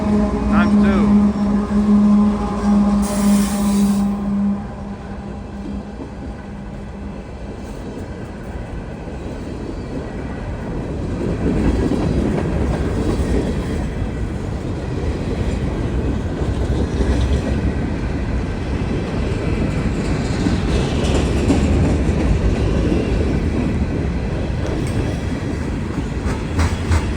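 A fast CSX and Norfolk Southern freight train rushes past, with a steady loud roar and wheel clatter throughout, a horn-like tone early on, and voices heard over the noise.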